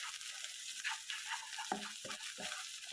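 Onions and spices frying in a pan give a steady, close, hissing sizzle throughout, with a few soft stirring scrapes near the end and no talking.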